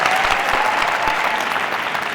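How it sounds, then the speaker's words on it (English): A panel-discussion audience at a youth expo bursts into dense, steady applause that stays loud and close throughout, a continuous wash of many hands clapping with no voices over it. "Round of applause"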